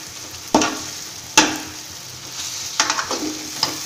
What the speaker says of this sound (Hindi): अब इस टाइम पे हम इसमें एग डालेंगे जो हम ऑलरेडी फ्राई करके रखे हुए हैं